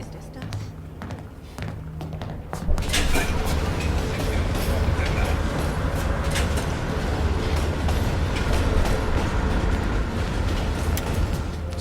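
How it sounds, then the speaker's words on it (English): A train moving and slowing down in the video game Call of Duty: Black Ops Cold War, a loud, steady rumble and rattle of rail cars that begins abruptly and continues throughout. "Train's slowing down."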